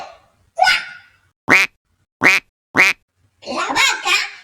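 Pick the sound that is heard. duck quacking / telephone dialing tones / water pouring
duck quacking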